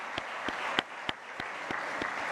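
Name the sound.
congregation applauding in church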